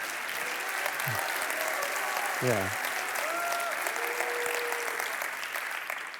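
An audience applauds steadily throughout a talk on resisting chemotherapy, with a dense, even patter of clapping and a few voices briefly heard over it.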